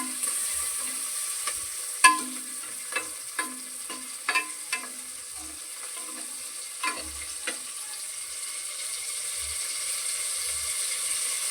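Curry leaves, green chilli and tomato sautéing in a pan, with a steady soft sizzle and scattered clinks of a spoon stirring against the pan, fairly close and without talk.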